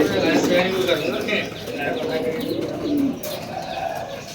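Soft, low pigeon cooing in repeated throaty phrases close by at a Karachi bird market, with people talking over it.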